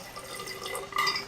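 Water is poured in a measured amount into a container, giving a soft, close trickle with light drips and a brief splash toward the end, alone in a quiet room.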